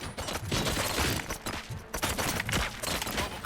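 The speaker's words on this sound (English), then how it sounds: "Gunshots? What's going on?" Gunfire from the video game Robocop Rogue City crackles in dense, loud, overlapping bursts, a sustained rattling barrage of many rapid shots with no voices.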